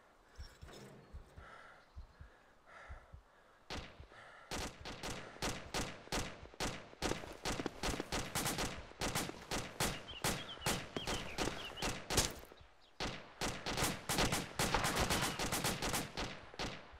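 Rapid gunshots from a military video game fire in a dense, irregular volley, single cracks at first and then near-continuous rattling bursts of varied loudness, with no talk over them.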